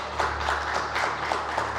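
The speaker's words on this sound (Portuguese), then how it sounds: "Você pode levantar suas mãos e aplaudir ao Senhor" A church congregation applauding to the Lord during a worship service, a soft, steady patter of many hands clapping in a roughly even rhythm, heard at a moderate distance.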